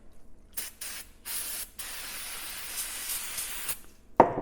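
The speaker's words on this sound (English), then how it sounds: "We're just going to spray a little cleaner on it." A spray bottle of cleaner hisses onto a bolt in a garage, several short bursts followed by one long steady spray, close and loud, ending with a sharp knock.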